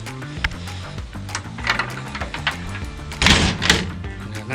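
Doors on an old VW Bus being shut: several metallic thunks and clunks, with a louder slam near the end, close by in a workshop.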